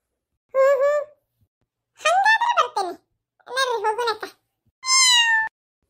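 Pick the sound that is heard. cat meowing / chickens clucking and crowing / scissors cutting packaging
cat meowing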